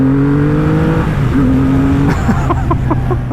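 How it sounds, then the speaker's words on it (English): A Triumph Rocket 3, the 2500cc three-cylinder muscle cruiser, revs loudly and up close, its engine note rising and falling steadily before it settles into a rougher idle. "the Rocket 3 is the gargantuan 2500cc 3-cylinder muscle cruiser that makes like 160 horsepower and 160 foot-pounds of torque"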